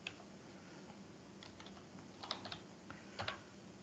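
Typing a command on a computer keyboard, faint scattered keystrokes in small irregular clusters over a low background hiss, close but quiet, without speech.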